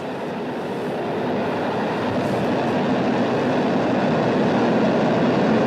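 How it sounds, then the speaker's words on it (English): A Soyuz rocket booster ignites and lifts off, producing a dense, steady roar that builds slightly in loudness over several seconds with no voices over it. "We have preliminary booster ignition."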